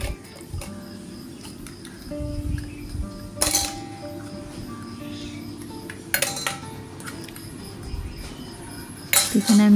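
Metal puja utensils clink and clatter as they are scrubbed with Bhim dishwashing soap, in irregular close knocks and scrapes with a few sharper clanks and faint background sounds.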